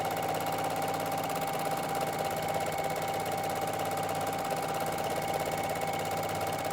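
A sewing machine stipples a quilt, its steady rapid mechanical hum running evenly throughout at moderate volume.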